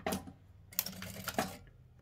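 A sewing machine stitching a seam on fabric for a small simple bag, a short buzzing run of stitches followed by a longer burst, close and fairly quiet, no talking.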